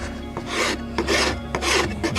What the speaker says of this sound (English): I'm gonna go ahead and try and sand these out